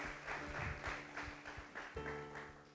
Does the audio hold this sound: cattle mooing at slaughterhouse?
no